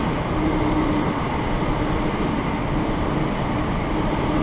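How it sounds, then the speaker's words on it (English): A long, fast train passing at Purley, a steady loud rushing rumble with wheel noise that holds unbroken throughout. "that long train is very fast."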